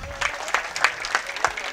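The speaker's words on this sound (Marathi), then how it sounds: "टाळी वाजवा ना." Audience at a temple donation gathering for Bhagwan Baba claps in a few loose, scattered bursts after a call to applaud, moderately loud and fairly close, with a faint voice murmuring underneath.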